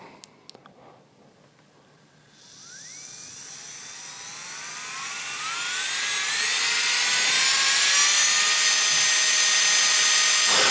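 A Strong 210 router bought from Aliexpress spins up from near quiet into a loud, high, rising whine that climbs in pitch and then holds steady and strong to the end, with no talking.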